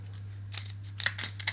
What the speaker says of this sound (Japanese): それではハサミを使って細かく切っていきます。